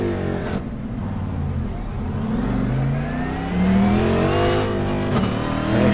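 A race car pulls away and drives out, its mid-pitched engine revving up through rising gears and growing louder, with a brief lift and a fresh climb near the end.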